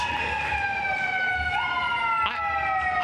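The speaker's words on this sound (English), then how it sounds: "I've never heard more fire trucks in the last 3 days than I have here." A fire truck siren wails outside, a sustained, gently wavering tone with its pitch sliding slightly as it passes, heard steadily over low rumbling traffic noise.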